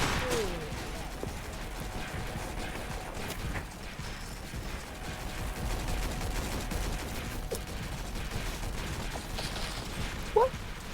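Pistol gunfire in Roblox Tower Defense Simulator, heard as dense rapid shots and mechanical clatter running throughout at moderate loudness.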